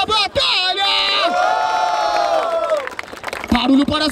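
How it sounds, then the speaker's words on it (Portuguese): A crowd at the 147th Batalha da Aldeia, a freestyle rap battle in Barueri, São Paulo, whoops and cheers loudly, with a sustained shouted voice rising over the noise before brief breaks. "Palmas pra essa batalha!"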